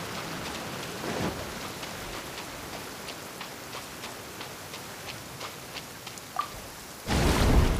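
Rain falls steadily in the video game Genshin Impact, a soft even patter with scattered drops tapping nearby, swelling into a heavier, louder downpour at the very end.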